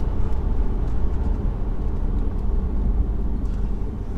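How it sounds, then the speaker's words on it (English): A 2014 BMW 530d with 132,000 miles cruises with its diesel engine and gearbox, heard as a steady, loud low rumble of engine and road noise from inside the car, unbroken throughout. "Gearbox and engine still working in harmony"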